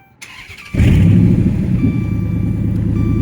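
A Chrysler 300 S with an engine sensor fault cranks briefly and catches, settling into a loud, steady idle close by, with no voices.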